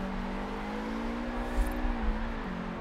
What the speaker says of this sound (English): roast the tires